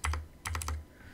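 Several keystrokes on a computer keyboard while typing a link name in a code editor, two quick taps followed by a faster run of four or five clicks, close and crisp, then quiet.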